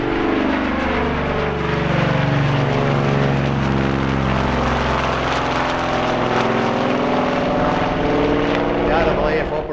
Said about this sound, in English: This is another HARS aircraft, the de Havilland Caribou. Now, this was the very last piston engine aircraft operated by the RAAF.